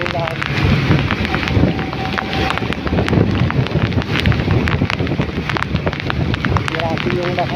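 Steady rain falling during a trip from San Juan to Pasig, a dense continuous wash of drops with wind, under street noise and voices.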